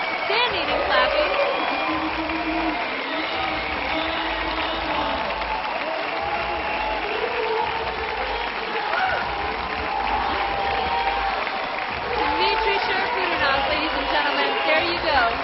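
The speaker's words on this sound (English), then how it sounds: "The crowd is clapping, standing and clapping." A large crowd claps steadily and cheers at a bouldering world championship final in Arco, Italy, a dense sustained roar of applause with a commentator talking over it throughout.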